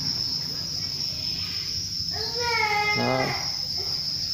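Farmed crickets kept at moderate density chirp in a constant high-pitched trill throughout, with someone speaking briefly over them partway through.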